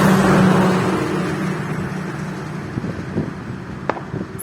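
A lorry rumbles by close at first, its loud engine drone fading steadily as it moves away, leaving faint road noise and a few small knocks.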